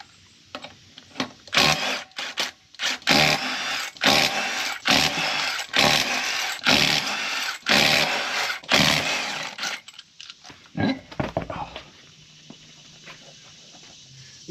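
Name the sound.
removing truck wheel lug nuts with power tool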